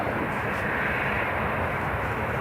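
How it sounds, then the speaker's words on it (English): A KLM airliner lines up on runway 25, its engines giving a steady, continuous broadband roar that holds level throughout with no breaks. "KLM lining up runway 25."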